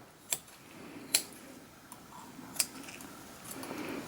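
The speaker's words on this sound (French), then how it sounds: "je vais prendre les ciseaux" Three or four sharp, crisp snips of scissors cutting through heart tissue and artery wall during a heart dissection, spaced apart, close and fairly quiet against a soft background hush.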